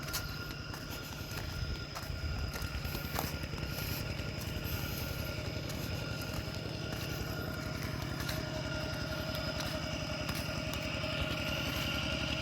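A tractor engine drones continuously at close range while plowing a rice paddy, a low rumbling hum with faint rattling and no voices.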